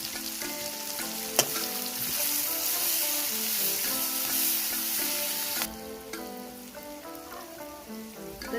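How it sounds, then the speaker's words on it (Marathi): Onion sautéing in a pan for a simple vegetable dish gives a loud, continuous sizzle with stirring. One sharp utensil knock comes early, and the frying softens slightly toward the end, with no talking. "बघा मस्त असा आपला कांदा परतला आहे"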